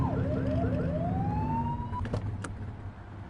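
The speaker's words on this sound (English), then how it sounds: "Get on their tail and flip the siren." A video game police car's wailing siren sweeps up repeatedly over a low engine rumble, then cuts off, followed by a couple of short electronic chirps.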